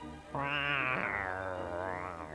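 A single long cat meow, close and clear, rising and then slowly falling in a drawn-out wavering tone, heard alone.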